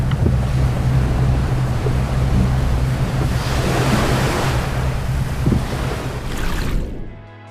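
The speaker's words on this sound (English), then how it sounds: "Waves in San Sebastian Bay, Spain, can reach nearly 100 feet high in water." Large ocean waves surge and crash in San Sebastian Bay, Spain, a continuous loud roar of surf with heavy wind buffeting the microphone, swelling midway before fading out at the end.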